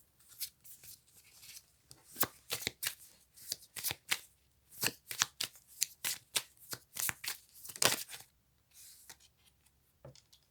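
Tarot-style cards being shuffled for a reading, a long run of crisp, riffling card shuffles in quick bursts with short gaps, close and clear in a quiet room.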